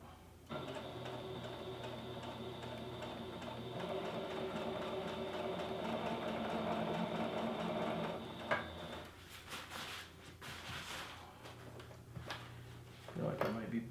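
Sewing machine stitching a diagonal seam through rip-stop hammock fabric, a steady close mechanical whir for about eight seconds, then stopping and starting in short bursts with fabric handling noises and someone talking quietly.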